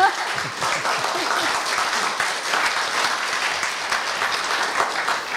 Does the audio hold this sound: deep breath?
no